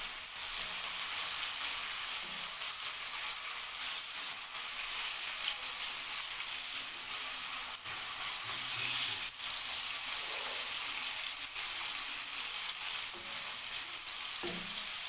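Chopped onions fry lightly in a pan with a steady, even sizzle, soft crackles and a few faint stirring knocks, no voices.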